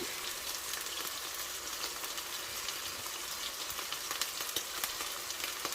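A fillet of salmon cooks in a hot pan for honey garlic glazed salmon, a soft, even sizzle with scattered pops and crackles running on steadily with nobody speaking.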